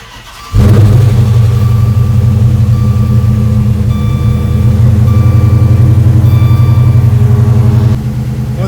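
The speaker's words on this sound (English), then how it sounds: "Once it goes off a cold start, it's gonna die." An Isuzu race truck engine fires up from cold, catching abruptly into a loud, rough, steady idle that holds close and strong, then drops slightly in level near the end.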